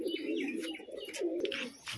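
Large flying pigeons coo close by in steady low throaty rolls, with faint chirps above, and no voices present.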